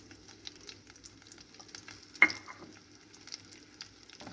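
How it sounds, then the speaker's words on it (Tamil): Finely chopped garlic hits a hot kadai over a low flame, a loud hiss bursting out at once, then settling into a softer steady sizzle with light stirring scrapes. "கடாய் சூடுலேயே பூண்டு ஃப்ரை ஆகிடும்."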